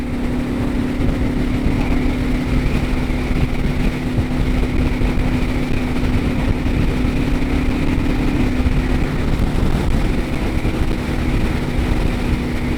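A Suzuki DR650 motorcycle fitted with a smaller front sprocket cruises steadily at the speed limit, its engine drone constant and loud with heavy wind rush and no voices.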